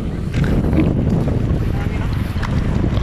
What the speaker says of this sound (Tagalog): Sang hangin, alon.